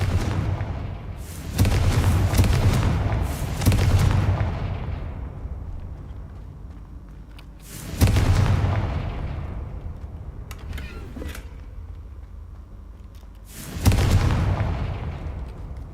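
Confringo fire spell blasts in the video game Hogwarts Legacy land as three heavy booming explosions, each with a rumbling tail that fades over a few seconds.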